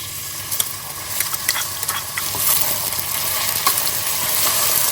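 Sliced onions are stirred into hot oil with crackling garam masala for a Goan beef curry, giving a steady close sizzle with scraping stirs and small pops.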